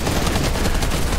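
Dense, continuous gunfire in Fortnite, many weapons shooting at once in a loud, close barrage with no break.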